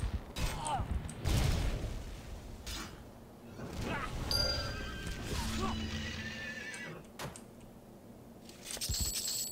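A horse in the video game EverQuest 2 neighs loudly, followed by clip-clopping hooves, game chimes and faint speech in the background.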